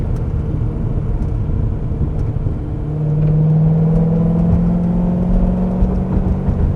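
A Corvette C6 Z06 on BC Racing DS coilovers accelerates along a twisty road, engine droning steadily inside the cabin and rising in pitch as the revs climb partway through, with road and wind rumble beneath.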